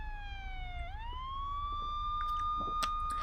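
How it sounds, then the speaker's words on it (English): Police sirens wail in a visual novel game, a loud rising and falling tone that sweeps down then climbs and holds, with faint clicks and bumps scattered behind it and no talking. "Approaching sirens, piercing the air with their incessant wailing"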